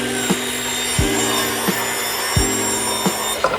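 A hand saw cuts wooden crown molding trim in a home, with rhythmic back-and-forth strokes rasping roughly every 0.7 seconds, close and clear.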